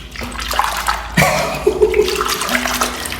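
A toilet flushes using the small half-flush button, giving a loud close rush of water that surges and swirls for a few seconds before settling, with no talking.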